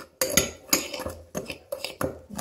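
A fizzy margarita drink bomb mix is stirred in a bowl, producing a series of crisp, rhythmic scraping clinks from a utensil against the bowl, close and alone.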